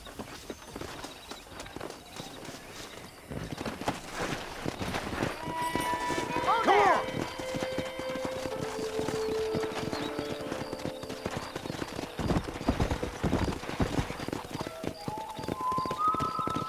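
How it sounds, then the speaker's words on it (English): Rapid clip-clop of video game horse hooves runs throughout, with a horse whinnying partway through and people talking over the galloping. "Let's see if we can't wrangle some horses."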